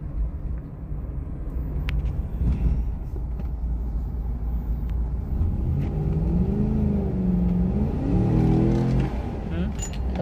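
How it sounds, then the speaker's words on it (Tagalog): A Chevrolet Tahoe engine with a fault rumbles and revs in a low, steady drone, rising into a louder, climbing whine near the end while someone talks over it. "Oba, galit yung makina. Parang eroplano kung sumibat na."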